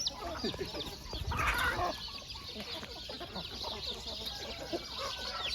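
Chickens cluck in a steady scatter of short calls across a noisy farmyard, with a brief louder burst early on and faint voices in the background.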